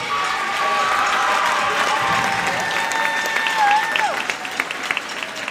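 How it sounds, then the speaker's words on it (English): A middle school auditorium audience claps and cheers at a spring music program, loud sustained applause filling the room, with a few voices and tonal sounds underneath. "Will you guys give Taylor a round of applause?"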